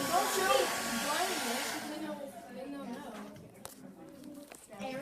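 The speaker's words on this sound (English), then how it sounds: "Hair dryer versus container" A hair dryer blows steadily at a container, a loud broadband whoosh that cuts off after about two seconds, followed by quieter rustling and handling noises while people talk nearby.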